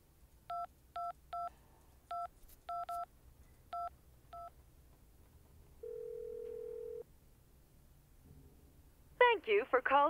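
Touch-tone keypad beeps dial a number in the video game Syberia 2, a quick run of separate tones followed by a longer steady tone and a burst of garbled phone audio at the end.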